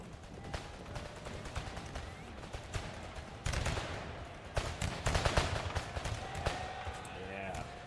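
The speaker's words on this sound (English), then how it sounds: "I'm hoping by bringing my troops up super close that they'll get a volley in while they're all" Musket gunfire crackles across an American Civil War battlefield in a video game mod, with scattered sharp shots and a denser volley burst midway, heard under a talking voice.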